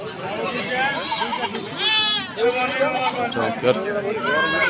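Goats, including a mother goat, bleating at a crowded rural goat market in Bangladesh. A few short, wavering bleats rise over the busy chatter and talk of people nearby.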